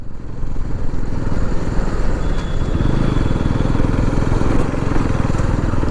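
An NS200 motorcycle ridden near a highway toll gate between Mysore and Masanag, with a steady, loud engine drone and rumble running continuously throughout.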